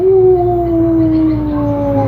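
A person imitates the crow of a Pelung chicken as one long, loud, sustained wolf-like howl that slowly falls in pitch.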